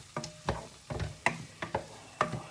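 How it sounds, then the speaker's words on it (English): Onions frying in a Remoska cooker, stirred with a regular scraping rhythm of about seven soft strokes over faint sizzling, close and quiet. "now let's turn our mind back to the onions. Well, they are frying."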